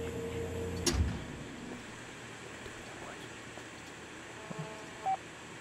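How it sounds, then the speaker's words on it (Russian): A telephone in the horror video game Joe's Diner gives off electronic, dial-like tones over a low hum, with a louder burst early on and a short, clear beep near the end. "Телефон."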